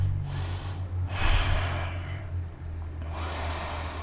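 A yoga instructor's slow, audible breaths during a side crow flow class, two or three long airy exhales close to the microphone with no talking.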